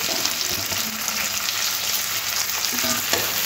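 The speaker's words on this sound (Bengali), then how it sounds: "সমস্ত কিছু আরও একবার ভালো করে হালকা করে ভেজে নিতে হবে" Onion, capsicum and green chili fry in a pan for a chili chicken dish, giving a steady close sizzle with scattered stirring scrapes and no voices.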